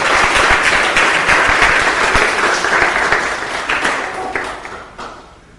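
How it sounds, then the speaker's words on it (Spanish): Congregation applause during a church sermon, a dense burst of clapping that holds steady and then fades out toward the end. "Démosle un aplauso al Señor."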